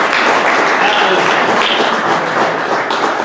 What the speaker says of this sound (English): can we give a round of applause for a delicious breakfast?